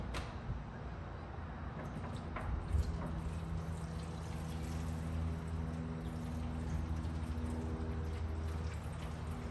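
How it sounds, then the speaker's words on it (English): Water poured into a pan inside a Char-Griller smoker makes a steady, continuous splashing stream that runs close by for several seconds without pause. "I got some water I'm gonna pour in there."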